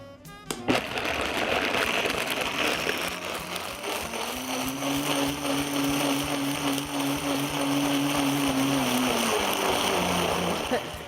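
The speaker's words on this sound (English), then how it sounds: "I have a high-powered blender, so it's not going to take me as long" A high-powered blender purees truffled almond alfredo sauce with a loud, steady whirring roar that climbs to a sustained whine after a few seconds and holds for several seconds more.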